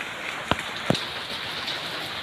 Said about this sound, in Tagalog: Masama ang panahon ngayon.